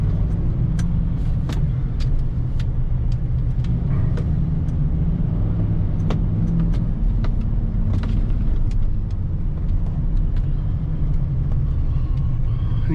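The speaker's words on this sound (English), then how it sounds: "across all these lanes of traffic" Steady, loud road rumble of multi-lane interstate highway traffic passing close by, with cars and heavier vehicles blending into a continuous roar and occasional brief higher-pitched swishes.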